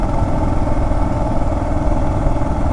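A Kawasaki KLR650 single-cylinder motorcycle engine running loud and close, a steady thumping idle with a dense low rumble and mechanical clatter throughout.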